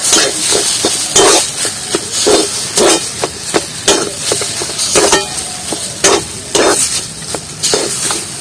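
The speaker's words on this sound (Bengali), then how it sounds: "এইগুলো সব মশলাগুলো ভালোভাবে আলুর মধ্যে কষিয়ে নেব" Potatoes being sautéed with spices, including cumin powder, for an egg curry: a steady sizzle of frying under repeated sharp clanks of a spatula stirring against the pan, loud and close.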